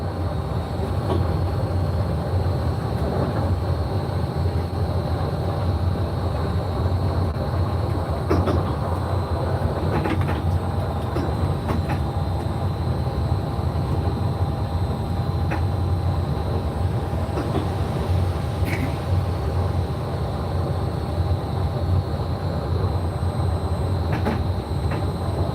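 A Disneyland monorail glides through Fantasyland, a steady low rolling hum with faint clicks, creaks and a soft high tone riding over it, heard from inside with no talking.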